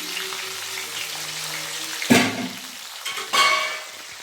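Sliced big onion dropping into hot oil in a pan for sundakkai vathal kuzhambu, giving a sudden close sizzle burst with a second splash of frying noise moments later.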